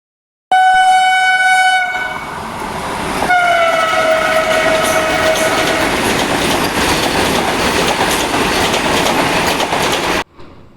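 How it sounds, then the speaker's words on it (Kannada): A train at Gadwal railway station sounds a loud, sustained horn blast near the start, then a second horn tone. Steady rumbling and rolling carries on for about ten seconds before cutting off, close by, with no talking. "welcome to Gadwal railway station"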